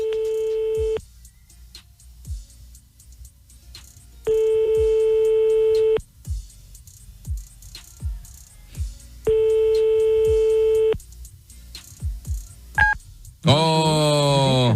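A telephone call rings through to Orange voicemail: three long steady ringback tones separated by quiet gaps with faint clicks, then a short beep and a rising, warbling voicemail jingle at the close.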